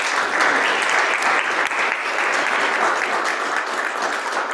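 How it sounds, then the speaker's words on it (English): Steady applause from a congregation at a Unitarian Universalist remembrance service, a dense even wash of clapping throughout with no voices over it. "Let's give them a round of applause."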